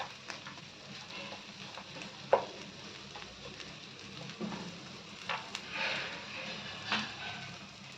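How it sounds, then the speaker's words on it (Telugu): Fried cashews tossed and stir-fried in a pan make a faint sizzle with light scraping and clinking of a spoon, quiet and close, with no talk. "ముందుగా మనం వేయించి పెట్టుకున్న జీడిపప్పులు ఇలా వేసుకోవాలి"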